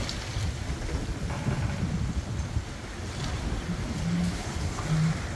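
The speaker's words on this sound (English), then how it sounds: "The waves are still running about 6 feet or so, and they're pretty close together." Wind and waves around a sailboat at sea in roughly six-foot, closely spaced swells, a constant roaring rush with buffeting wind noise on the microphone, loud and unbroken with no talk.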